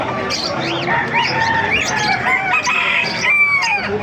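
Gamefowl roosters and chickens at a crowded market cluck and crow over one another in a loud, continuous chorus with overlapping calls and some wing flapping.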